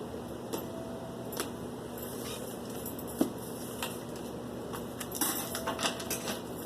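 Tarot cards cut and shuffled by hand for a reading, soft papery riffles and sharp flicks scattered in uneven bursts over a faint steady room hum, with no talking.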